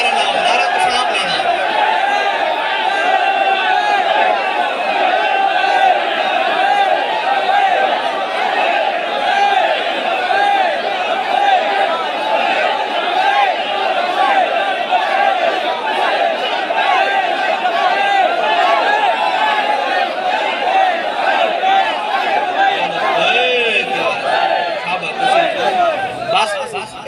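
A large crowd at a religious gathering chants a slogan in unison, a dense, loud wall of massed voices that holds steady for the whole stretch without pause.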